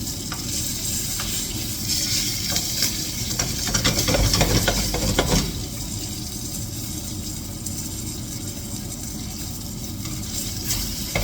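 Beef steak sizzling in a hot frying pan for beef and prawn laksa: a steady, loud, close hiss that swells briefly midway, with no voices.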